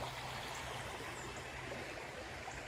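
Creek water pours steadily through a culvert beneath a bridge in the Georgia mountains, a continuous broadband rush that holds even and fairly soft throughout, with no voices present.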